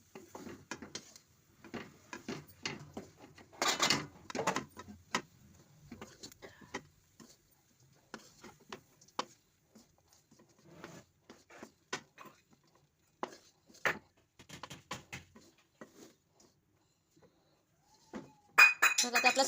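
Sambar vadi masala filling of grated coconut and poppy seeds being mixed in a pan, with intermittent clinks and scrapes of a spoon against metal in irregular bursts, some louder clatter near the start and end, no talking.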